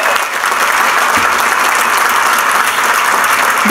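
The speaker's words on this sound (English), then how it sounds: "could we have a big round of applause for this Cardinal group?" A large audience applauds a group of high school students at a University of Louisville football press conference, with dense, steady clapping that stays loud and full for the whole stretch.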